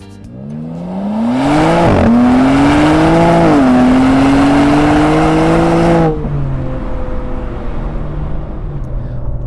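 A 2021 BMW M3 Competition, 510 PS rear-wheel-drive sedan, accelerating while driving: engine and exhaust drone rising in pitch through the gears with brief shift dips, loud and close, then easing off to a lower, quieter cruise hum.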